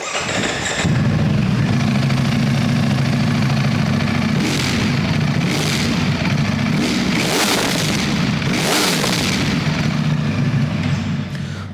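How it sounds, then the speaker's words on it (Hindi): A Ducati V4 SP2 on its stock exhaust idles after a cold start, a deep steady rumble with a few sharp throttle blips rising over it, close and loud. "अब मैं आपको एग्जॉस्ट नोट सुनाता हूँ इसका।"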